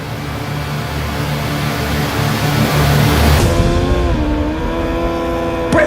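World Superbike racing motorcycles launch off the grid at Mandalika, a loud wall of revving engines that rises, then breaks into distinct high screaming tones shifting pitch as the bikes accelerate away.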